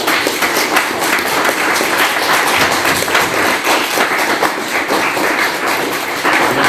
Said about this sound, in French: Veuillez leur donner un applaudissement s'il vous plaît.